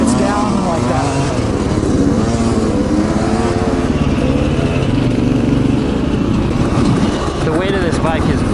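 A Yamaha YZ125 two-stroke dirt bike revs and bogs through a trail section, its loud buzzing engine rising and falling continuously while a rider talks over it.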